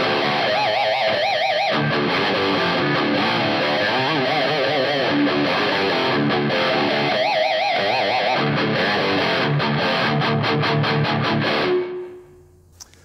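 A heavily distorted electric guitar plays a riff with loud chugging chords, squealing bends and choppy stops, ending with a ringing note that quickly fades out.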